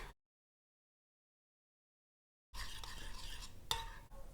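Melted chocolate mixture stirred for a chocolate and peanut butter macaron filling, heard as close, steady scraping and swishing of a utensil in a bowl with one sharper clink, starting after a silent gap.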